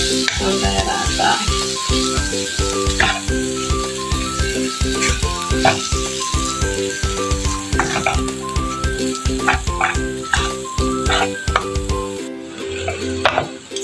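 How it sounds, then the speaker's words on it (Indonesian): Instant noodles with sweet soy sauce are stir-fried in a hot pan for mi tek tek, giving a loud, steady sizzle with constant scraping and tapping of a spatula against the pan, close by until a sudden stop near the end. "Kemudian kita masukkan mie instannya ya guys. Kita aduk"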